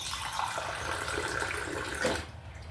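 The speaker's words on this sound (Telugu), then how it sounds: "కొంచెం నీళ్ళు పోసుకుందామండి" Water runs in a steady, continuous pour into an okra and tomato stew, a broad hiss with a brief splashy surge near the end before it stops.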